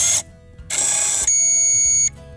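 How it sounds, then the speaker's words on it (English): A Falcon electronic lock sounds its long then short beep after its battery is reinserted, two clear electronic tones over a quiet background. "Reinsert the battery and wait for a long and short beep."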